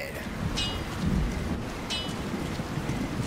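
Heavy rain pours steadily in the town of Bree in The Lord of the Rings: War in the North, with low thunder rolling underneath and two brief bright splashes standing out against the constant hiss.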